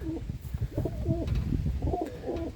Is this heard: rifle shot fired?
no